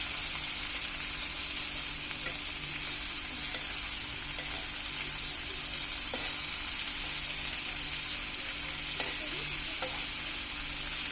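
Prawns fry in a pan after being flipped, holding a steady close sizzle and hiss with faint occasional clicks of a utensil.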